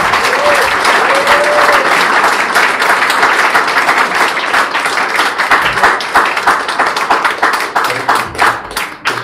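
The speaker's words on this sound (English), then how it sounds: "Can we all give Liz a round of applause for coming up?" A startup event audience gives a round of applause, dense continuous clapping from many hands close and loud, holding steady for about nine seconds with no talk over it.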